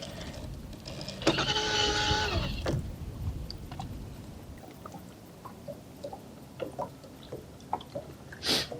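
An electric trolling motor on a fishing boat, out after crappie, gives a brief whirring whine of about a second and a half, then fades to quiet water sounds and small scattered ticks.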